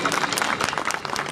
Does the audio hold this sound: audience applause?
yes